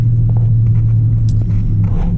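A high-mileage Toyota Tundra pickup's engine rumbles loudly and steadily from inside the cab while accelerating, a deep continuous drone with faint road noise over it.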